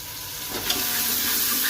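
Garlic and onion frying in a pan for tadka dal make a steady, close sizzle that holds evenly throughout, with a brief swell near the start as the pan is stirred.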